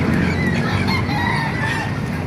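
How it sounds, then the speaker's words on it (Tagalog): Several roosters, including Brahma chickens, crow and hens cluck together in a dense, noisy chorus at a crowded poultry market, with overlapping calls. "Lalaking mga manok ito"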